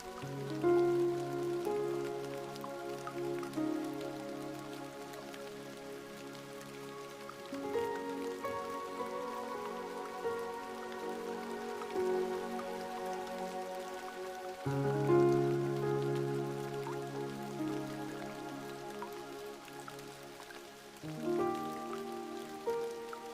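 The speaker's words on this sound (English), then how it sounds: "The rain has turned fine and weightless now, more mist than water" Fine, misty rain falls as a soft, steady patter beneath a sustained, slowly shifting musical drone that changes chord every few seconds.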